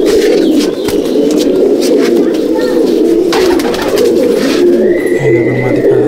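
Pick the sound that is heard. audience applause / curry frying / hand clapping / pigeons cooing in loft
pigeons cooing in loft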